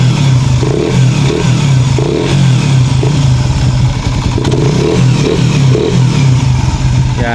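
A Suzuki Raider 150 FI motorcycle engine, just after a cam chain tensioner reset, idles with a steady hum and clatter. It is revved in several short, repeated blips, close and loud throughout.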